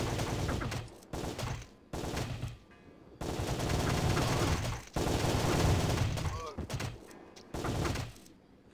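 Rapid gunfire in the Windows video game Sure Shot comes in several loud, dense bursts separated by short quiet gaps, sounding close and harsh.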